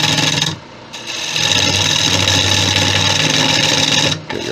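A gouge cutting a closed cherry wood bowl on a lathe, a close, loud continuous rasping scrape with a steady hum beneath, breaking off briefly near the start and again near the end.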